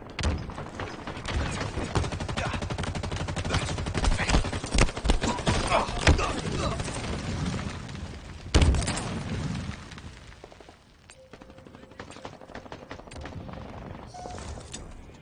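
A frag grenade goes off in a shooter video game amid dense gunfire; rapid shots crackle for several seconds, then a sharp loud blast hits before the firing thins into scattered distant pops.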